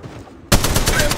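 Rapid automatic gunfire from Apex Legends Mobile bursts in suddenly after a quiet half second of game ambience, then continues as a loud, dense rattle of repeated shots.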